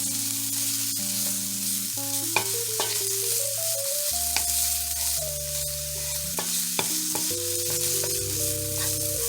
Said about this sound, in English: We're also going to add our green pepper. And we're going to saute them for about 2 minutes